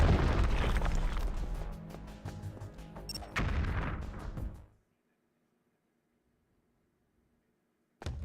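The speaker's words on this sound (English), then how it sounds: "Press A button to set, B button to detonate." Explosive detonation in the video game Metal Gear Solid: The Twin Snakes, a loud booming blast over dense game sound that cuts off into near silence, with a brief burst of sound returning at the end.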